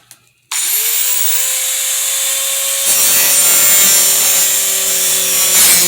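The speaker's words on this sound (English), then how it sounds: "I have a Sawzall Dremel here, which is what I use to cut and clean the fiberglass with" A Dremel rotary tool cutting and cleaning a fiberglass Predator test helmet: a loud, steady high-pitched whine starts abruptly after a brief pause and runs continuously, with rougher grinding texture as the bit bites into the fiberglass.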